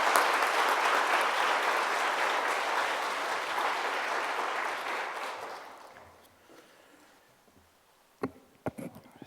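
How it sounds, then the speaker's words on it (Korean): Audience applause in a church revival service welcoming a preacher, dense clapping that holds steady and then fades out over several seconds, followed by a few faint knocks and handling sounds. "여러분 박수로 맞아 주시기 바랍니다"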